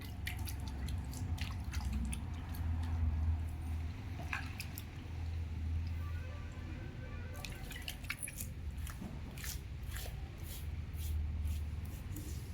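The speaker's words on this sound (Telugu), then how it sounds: "దీనిపైన ఫస్ట్ మనం వాటర్ అయితే చల్లుదామండి" Water is sprinkled onto a curry stain on a saree, making faint, scattered drips and soft wet pats against a quiet background.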